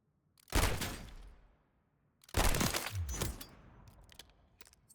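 Tyr pistol shots in Call of Duty Warzone: two loud, close blasts about two seconds apart, each with a long reverberant tail, the second followed by smaller crackling impacts.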